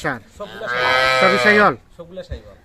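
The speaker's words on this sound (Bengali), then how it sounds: "ছয়টা গাভী ছয়টা বাছুর" Cattle mooing at a farm selling cows with calves, one long loud drawn-out moo followed by quieter shorter calls and faint background voices.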